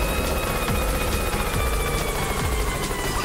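A helicopter in the Yooka-Laylee video game whirs loudly and close, its rotor thumping in a quick, steady rhythm with a high whine running over it.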